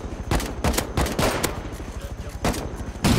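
Bursts of gunfire in a survival shooter game, Rust, with rapid shots in several clusters and a final volley, close and loud, with voices faintly underneath.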